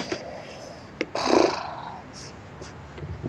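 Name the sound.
cat purring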